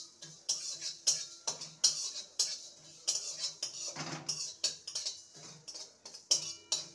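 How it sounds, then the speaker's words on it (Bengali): Spices and a small dried red chilli dry-roasting in a pan for a bitter gourd dish, with close, repeated scraping and clinking of a utensil against the metal in an uneven stirring rhythm, without any talk. "মশলাটাকে ভেজে নেব।"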